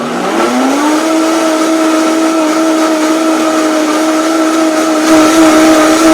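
A kitchen blender whirs loudly and close as it mixes batter with roast beef drippings, spinning up quickly and then holding a steady high motor whine for several seconds.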